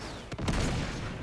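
A couple of sharp gunshots crack out amid a noisy firefight in the video game Uncharted 3, set in a monastery, with rumbling game sound filling the background.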